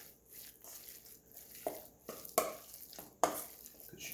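Ground pork filling for dim sum is mixed by hand in a bowl, giving soft wet squelching and stirring with a few sharper knocks against the bowl, close and quiet, with no talk.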